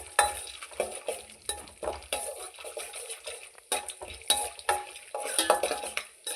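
Whole spices for pudina rice fry in a pan while a metal spoon stirs them, giving a close sizzle broken by repeated scraping and clattering strokes against the pan in an uneven rhythm.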